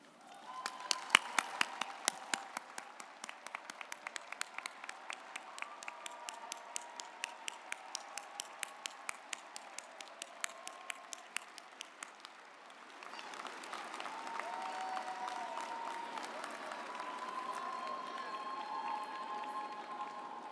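Family members at a college commencement ceremony are applauded by the audience, a faint, distant wash of clapping with scattered sharper claps, swelling into a broader, fuller ovation partway through.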